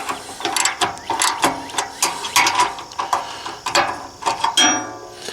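Ratchet straps being cranked tight on a heavy-duty motorcycle hitch carrier holding a Honda CRF250L dual-sport on a Jeep Wrangler, giving repeated close clicking bursts in an uneven rhythm with no talking.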